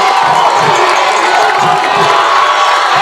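Football fans in the stands at a high school game cheer and scream loudly and continuously, forming a dense roar of crowd voices with excited shouts.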